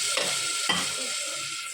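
A steady sizzle of eggplant frying in a pan with a little water added, broken by two sharp scraping stirs near the start and middle.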